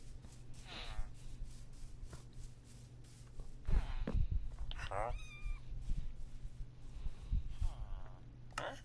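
Minecraft cats meowing in a few short, clear calls over a steady low game hum, with faint shuffling footsteps and no talking.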